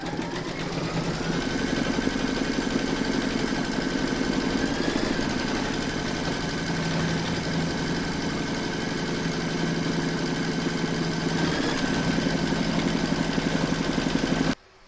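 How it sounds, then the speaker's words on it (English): An embroidery machine stitches a fabric coffee coaster in its hoop, giving a continuous, even mechanical hum and rapid needle patter that runs for nearly fifteen seconds at moderate level before cutting off, with no voices. "Pop your hoop into your machine and stitch round number 3."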